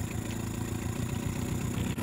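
A two-stroke boat engine idles nearby with a steady, rough, buzzing drone that holds even throughout, with no voices.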